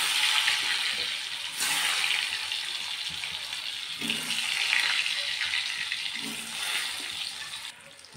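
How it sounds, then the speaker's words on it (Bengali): Two boiled potatoes frying in hot oil for a duck egg curry, giving a continuous loud, close hiss and crackle that holds steady throughout. "সেই আলু দুটো ভেজে নেব।"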